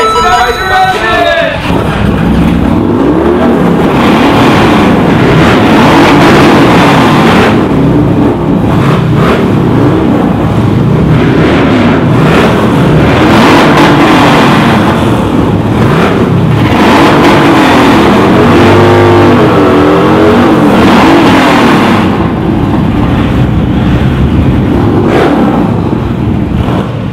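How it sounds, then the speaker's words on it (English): Several loud motorcycle engines start, rumble and rev continuously at close range in a parking area, rising and falling over a steady roar, with voices faintly mixed in. "gentlemen, start your engine!"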